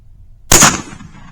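A single 12 gauge slug gun firing a Foster slug at long range outdoors, one sharp, loud blast with a quick decaying tail after a moment of near quiet.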